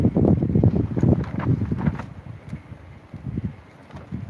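Strong, cold wind gusts outdoors near Salerno, buffeting the microphone in loud, rough low rumbles that ease slightly toward the end, with no voices.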